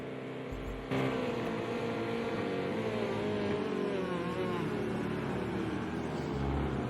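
Race cars in a GTE racing video game roar through a chicane onto the main straight, steady layered engine whine with rising and falling pitch sweeps throughout, loud and continuous.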